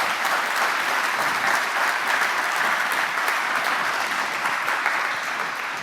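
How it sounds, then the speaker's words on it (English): A large audience bursts into steady, dense applause at a lightning-talk session of a hacker festival, the clapping loud and sustained throughout before easing slightly at the end. "So big applause again."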